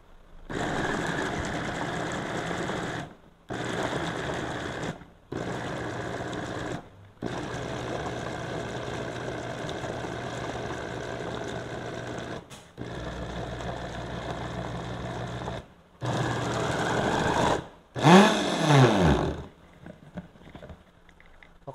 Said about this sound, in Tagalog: Pagiling na natin.